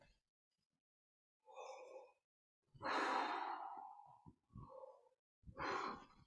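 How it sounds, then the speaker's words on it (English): A tuba player takes slow, deep breaths as a warm-up exercise, several close, audible inhales and exhales with short pauses between them in a quiet room. "And each time you take those breaths, make them deeper."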